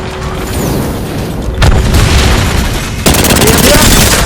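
Gunfire in the battle royale game Apex Legends, bursts of rapid shots and booming blasts layered over continuous loud game noise, with a sharp burst near the end.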